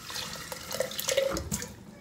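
Tap water runs for about two seconds, rinsing sprouting lentils and chia seeds in a container, with a steady close splash that swells in the middle and trails off near the end.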